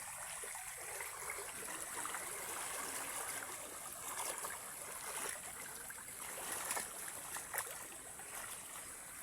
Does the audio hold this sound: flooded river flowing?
yes